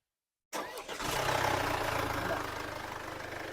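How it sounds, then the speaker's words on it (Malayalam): A Mercedes-Benz C220 engine cranks and catches after a short silence, then settles into a steady, fairly loud idle with a smooth, even hum. "ഇതൊന്ന് സ്റ്റാർട്ട് ചെയ്തോ."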